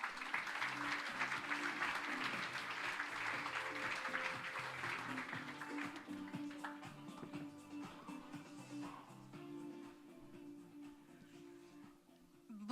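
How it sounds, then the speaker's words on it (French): An audience at a French pitch event applauds a speaker, starting as dense clapping that gradually thins and fades over several seconds while a voice begins talking underneath near the end. "Sous vos applaudissements, s'il vous plaît."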